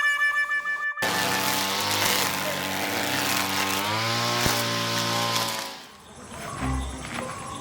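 An electric hair clipper cutting hair gives a loud, steady mechanical buzz that runs for about five seconds before cutting out, followed by a few softer, scattered sounds.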